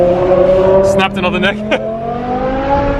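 A BMW E63 M6 with its V10 engine revs and pulls hard from inside the cabin, a steady droning engine note under close conversation with a brief gear-change surge midway.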